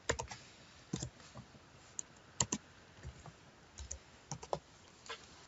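Someone types a search into Bible-lookup software on a computer keyboard, producing quiet, irregular keystroke clicks in small clusters with short gaps between them.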